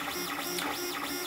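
A Lulzbot TAZ 3D printer printing red NinjaFlex and white ABS, its stepper motors whining in repeating rising and falling sweeps, steady and close with no talking.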